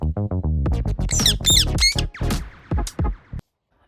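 An angry parrot lets out a rapid series of loud, harsh squawks and screeches close by, about a dozen bursts over a few seconds before falling silent.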